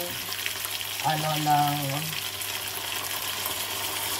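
Pisang lapu-lapu fish frying in a pan, giving a constant close sizzle. A short tonal sound rises briefly in the middle, with no clear speech.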